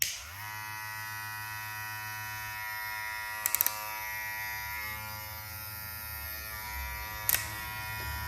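TPOB Troll Blackout hair clippers switched on and running, a steady close electric buzz with a strong hum that holds evenly throughout, broken by a few brief clicks and rattles, no talk.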